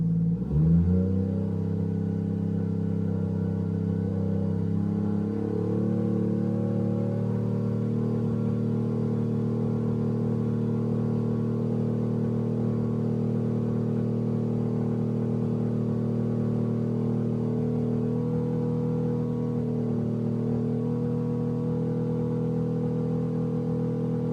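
A Toyota engine with a past misfire is held steadily at 2,000 to 2,500 RPM, a smooth continuous drone heard close and unbroken for over twenty seconds, with a slight pitch shift early on and no voices.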